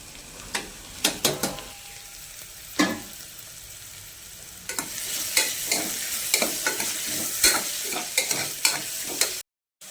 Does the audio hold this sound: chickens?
no